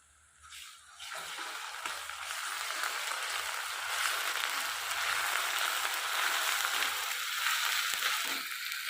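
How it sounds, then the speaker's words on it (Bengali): Ginger-garlic paste hits browned onions in a hot pan, starting a loud, steady sizzle that swells within a second and stays close and continuous. "পেঁয়াজ লাল লাল করে ভাজা হয়ে গেছে এবার আদা আদা রসুন বাটা দিই"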